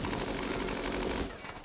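Rapid automatic gunfire in the video game Rimworld, a dense continuous burst of shots, loud and close, that breaks off abruptly near the end.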